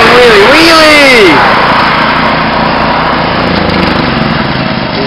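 A lawn tractor engine revving hard while the machine pulls wheelies, a loud, close, buzzing drone held throughout, with excited voices over it at the start.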